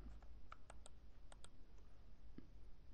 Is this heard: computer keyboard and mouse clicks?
yes